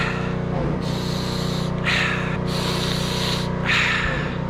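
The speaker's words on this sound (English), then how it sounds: "Maybe we should be giving that thing a little spray down with some Berrylicious Bubble." Several hissing bursts of a spray nozzle applying car wash cleaner to a 1961 Chevrolet Parkwood wagon, one after another over a steady low engine drone, fairly close.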